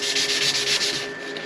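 Hand sanding of a Coke bottle style bushcraft knife handle with 280 grit abrasive: a steady, close scratchy rasp with soft rhythmic back-and-forth strokes, no talking.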